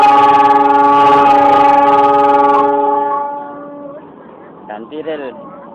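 A train shunting and switching tracks at Malang station sounds a long, loud, steady horn blast that fades after about three seconds, followed by nearby voices.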